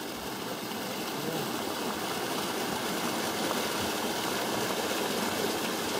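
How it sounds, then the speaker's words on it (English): A small waterfall at a bedrock gold-prospecting spot gives off a steady, broad rushing roar that holds evenly throughout, close by and with no voices. "Well, here we are at the little waterfall."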